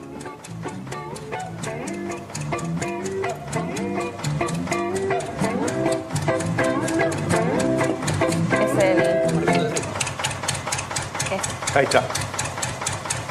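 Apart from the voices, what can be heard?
tractor engine idling, used as percussion by a band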